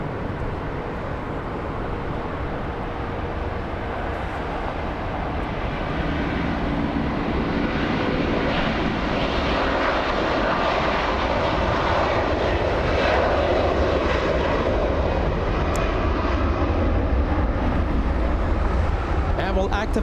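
A Hawaiian Airlines airliner rolls out on departure at LAX, its jet engines a loud, continuous rumbling roar that builds slowly over twenty seconds, with someone talking over it.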